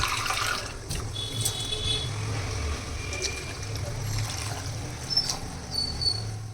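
Water poured into a pan of dried, oil-released masala for a thin rohu fish curry with potatoes, a steady low splashing and sizzling pour heard up close through the whole stretch.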